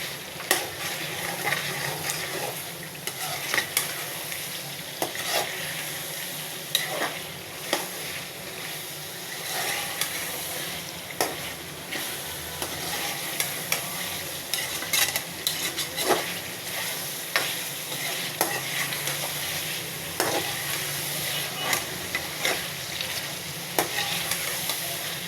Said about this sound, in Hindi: इसको अच्छे से भून लेते हैं।